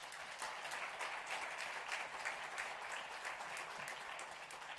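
A church congregation at Sunday worship claps steadily to welcome newly registered members, a soft, even patter of many hands heard from a distance with no voices.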